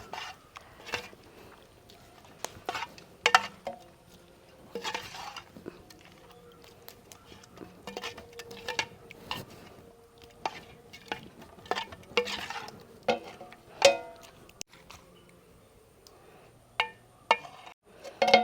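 A pot lid comes off and a dish is stirred in a kitchen, giving scattered metallic clinks, scrapes and knocks of utensil against pot, irregular and close, with quiet gaps between them.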